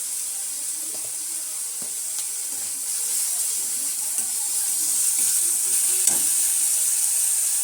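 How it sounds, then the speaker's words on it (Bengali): Chili powder and spices frying with onion paste in a pan for an alu potol dish, a steady close sizzle with occasional spoon scrapes and stirring taps throughout, no talking. "এবারে দিয়ে দিচ্ছি লঙ্কা গুঁড়ো।"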